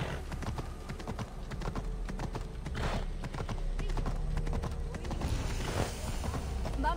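A horse's hooves clip-clop at a steady trotting rhythm in the video game Assassin's Creed Odyssey, a continuous, moderately loud patter.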